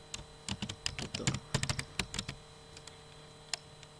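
Rapid bursts of typing on a computer keyboard while naming a new Flutter project in Visual Studio Code, clusters of close, crisp keystrokes in the first half, then a few scattered taps fading out; no talking.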